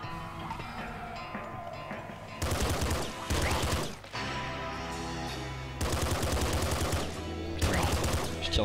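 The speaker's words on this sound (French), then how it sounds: "Je tire dans les murs là, ça va pas du tout." Rapid bursts of video game gunfire from shooting at walls in a Vlambeer game. Loud dense volleys sound in two long stretches over steady game music.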